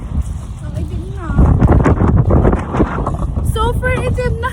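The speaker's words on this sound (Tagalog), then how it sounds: "Ang hangin niya." Gusty wind buffets the microphone with a low, rumbling roar at a river while people talk over it.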